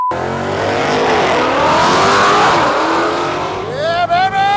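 A supercharged drag car launches against a nitrous car at the strip, a loud rising engine roar with a sweeping pitch climb, then a quick shift and a renewed climb, with voices underneath.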